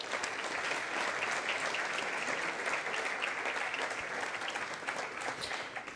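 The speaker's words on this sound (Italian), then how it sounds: "un saluto e un applauso" Steady audience applause at a formal commemoration for victims of duty, a dense wash of clapping from a large crowd that holds evenly throughout.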